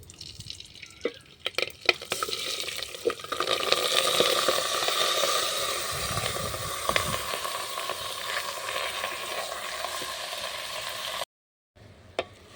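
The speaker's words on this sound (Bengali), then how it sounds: "তেল দিয়ে চালটাকে লাল লাল করে ভেজে নেবো" Rice and chana dal frying in hot oil with a garam masala tempering: a loud, steady sizzle with some clattering stirring, close up, which stops abruptly near the end.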